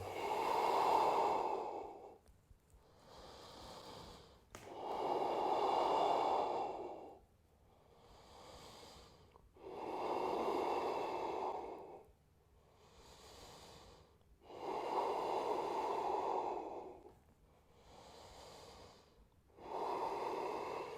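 Slow, deep yoga breathing held in humble warrior pose, with about four long loud exhales alternating with quieter inhales in a steady rhythm, close and alone without talk.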